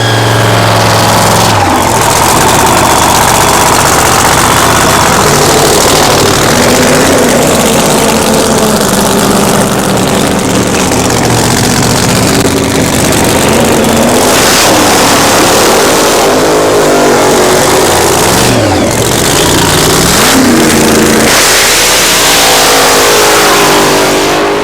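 A 1986 Datsun 300ZX drag car idles loud and rough, then revs hard in repeated surges, with the engine note climbing and falling throughout and no talk over it.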